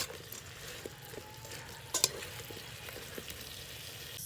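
Chicken with honey and lemon being stirred in a frying pan, a soft steady sizzle with scattered scraping clicks and one brief louder clatter near the middle, no talking.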